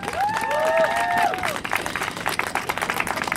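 Applause and cheering from a crowd at a protest rally for a $15 minimum wage, with a shrill whistle-like tone sliding at the start, then dense steady clapping continuing.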